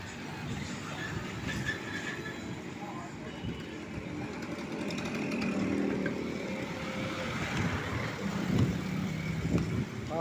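Road traffic in Maliwag, Nueva Ecija rolls by as a faint, continuous rumble of passing vehicles, growing slightly louder toward the end, with people talking over it.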